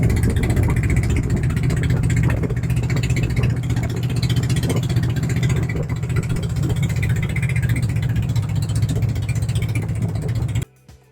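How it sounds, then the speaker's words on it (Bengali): A trawler boat's engine drones steadily and loudly on the Padma river, a constant low chugging throb with mechanical rattle that runs unbroken and then cuts off abruptly at the end. "পদ্মা নদীতে এই ট্রলার জার্নিটা সত্যি খুব খুব ভালো লেগেছে।"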